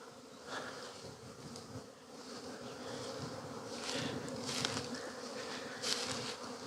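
Dense, steady buzzing of honeybees at a hive, swelling slightly louder toward the end with no talk, a close continuous swarm drone.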